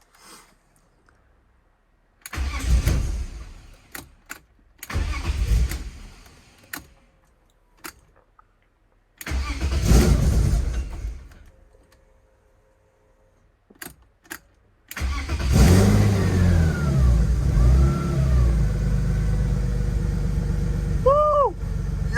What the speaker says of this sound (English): this was the first try to start the car after I hooked up the fuel pressure regulator